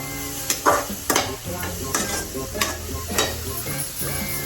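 Halwa is stirred and sautéed in ghee in a pan, giving a continuous sizzle with repeated scraping and clinking strokes of the spoon against the metal, close and steady throughout.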